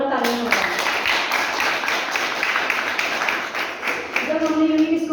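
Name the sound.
audience applause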